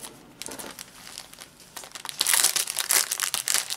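The paper cover of an embroidery thread sample pack crinkles close up, starting with soft intermittent rustles and then building into louder, denser crackling toward the end, with no talking.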